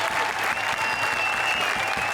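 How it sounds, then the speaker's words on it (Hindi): A studio audience on an Indian television comedy show breaks into loud, steady applause, thick continuous clapping with a faint musical tone running through it. "जोरदार तालियां फॉर आवर 3 जजेस।"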